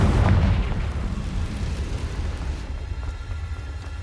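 In Hogwarts Legacy, a Confringo blasting spell explodes with a loud, rumbling boom at the start. The blast then fades into a lower, continuing roar, and no one speaks during it.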